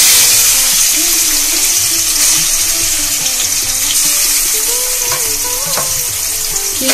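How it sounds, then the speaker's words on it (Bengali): Shrimp fry in hot mustard oil in a wok, giving a loud, continuous, close sizzle and crackle with no talking. "তেলটা গরম হয়ে গেছে, চিংড়ি মাছগুলো দিয়ে দেব।"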